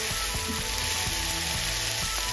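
Okra pieces for masala bhindi sizzle steadily in a hot pan, a dense continuous frying hiss with faint scrapes of stirring, close and loud with no talking.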